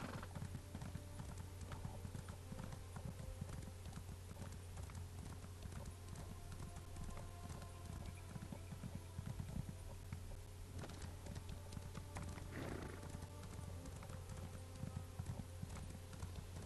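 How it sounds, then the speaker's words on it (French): Horse hooves clip-clop steadily as a rider travels on horseback in The Elder Scrolls Online, a continuous rhythmic clatter over a constant background hum, with no talk. "On va à cheval, c'est plus pratique."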